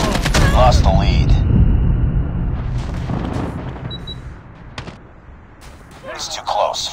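A grenade detonates with a loud, booming blast in Call of Duty Mobile, and the rumble slowly dies away. Scattered shots and game voice lines follow, with speech running over parts of the clip.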